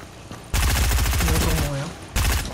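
Automatic gunfire in Fortnite rattles out in rapid, loud, sustained bursts, one long stretch and then a second burst starting, with a voice briefly audible in between.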